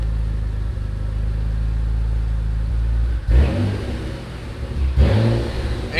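A Mitsubishi 3000GT VR4 engine running on a standalone ECU under tuning idles with a low steady drone, then revs sharply twice in quick bursts, loud and close.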